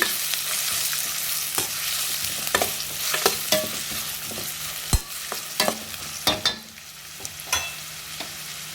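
Onions frying in a pan for egg rice, a constant sizzle broken by repeated sharp scrapes and knocks of a spatula stirring, with no voices.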